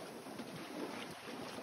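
Steady wind blows over a sailboat at sea during a solo passage, about 12.6 knots on a beam reach, a constant broad rushing roar with faint water wash and no voices.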